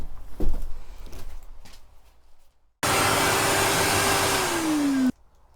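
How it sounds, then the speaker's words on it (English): A vacuum cleaner sucks up dust inside a 17-year-old van being converted to a campervan. A few knocks come first, then a loud, steady whine that drops in pitch and stops abruptly. "give this just a little quick sweep out, quick hoover out, wipe down with all the 17 years of dust"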